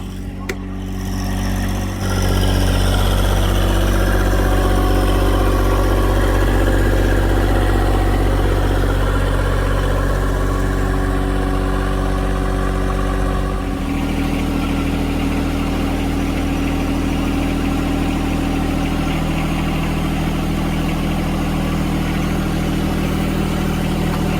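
A John Deere 1025R compact tractor's engine runs steadily at close range, a loud, continuous low drone that shifts in pitch partway through, with no talk over it.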